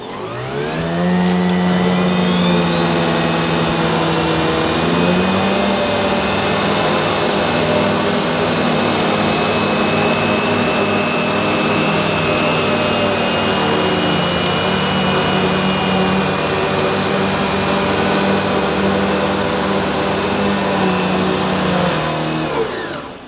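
Two Vorwerk Kobold vacuum cleaners, a VK150 and a VK200, run on carpet with automatic suction, a loud steady motor whine that shifts pitch briefly early on, then holds for about twenty seconds before cutting off.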